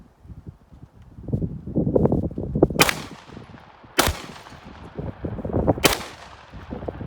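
Three sharp, loud shots from a Kriss Vector fired at a glass target outdoors, spaced about a second or two apart, amid rustling and shuffling movement nearby.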